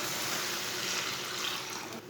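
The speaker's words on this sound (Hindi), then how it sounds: "स्टील का मैंने गिलास लिया है। 2 गिलास पानी डाल लेंगे।" Water pours steadily from a steel glass into a cooking pot of lentils, a continuous close splashing rush with no voices.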